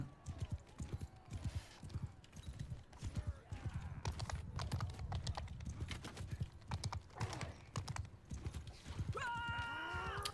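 Rapid, rhythmic hoofbeats of galloping horses in the video game Mount and Blade pound steadily throughout, with a brief electronic tone near the end.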